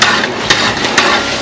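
Milk and sugar cooking down into kova in a pan, stirred with loud, regular scraping strokes about every half second over a thick bubbling sizzle.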